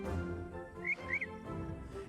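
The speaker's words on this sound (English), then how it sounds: "The birds are awake before anyone." Morning birds in the Orwell's Animal Farm game give two quick high chirps, faint and brief against a low, steady humming background.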